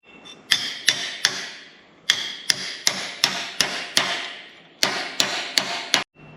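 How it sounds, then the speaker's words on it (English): Hammer beating a metal part clamped in a bench vise, giving sharp, ringing metallic strikes in quick bursts of three to six blows separated by short pauses, close and loud. "grab a hammer, start beating it until it works"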